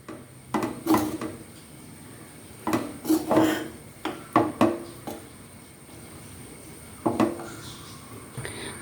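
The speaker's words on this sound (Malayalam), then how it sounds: "നമുക്കിതെല്ലാം കൂടെ ചേർത്ത് ഒന്നുകൂടെ ഒന്ന് ഇളക്കി കൊടുക്കാം." A spoon stirs ghee rice in a pot, giving several short scraping, clattering bursts against the metal in irregular clusters, close and fairly loud, with quiet pauses between.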